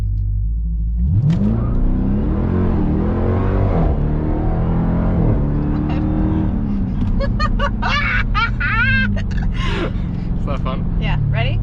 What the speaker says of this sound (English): So you come to a stop, and then just when you're ready, just hit the gas.